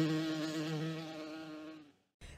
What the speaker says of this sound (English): hummed a bumblebee flying from flower to flower.